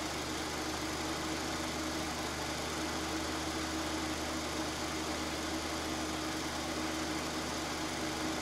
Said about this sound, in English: And they'd be running at revs like this, higher revs.